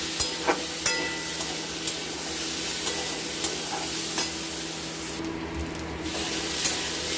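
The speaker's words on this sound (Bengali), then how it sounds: "এটাকে আমরা চার পাঁচ মিনিট নাড়াচাড়া করব" A spoon stirs fish curry ingredients with salt and turmeric in a hot pan, a steady sizzling hiss with scraping strokes, close and continuous, and no one talking.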